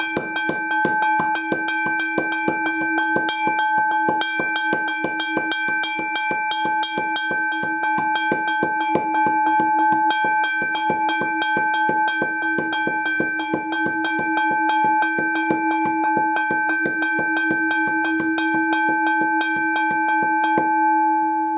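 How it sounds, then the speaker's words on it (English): A hybrid railroad crossing bell set up to sound like a Westinghouse teardrop bell strikes in a fast, steady, ringing rhythm. Each clear metallic hit carries sustained tones, loud and near, with no voices over it. "Here's how to make your hybrid bell sound like a Westinghouse teardrop or Mackenzie in Holland."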